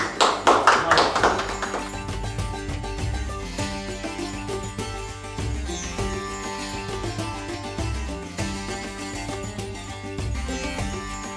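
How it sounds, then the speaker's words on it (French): An audience claps for a restaurant honoured at an award ceremony in Lyon, a burst of applause at the start settling into steadier clapping under background music. "Allez, on l'applaudit."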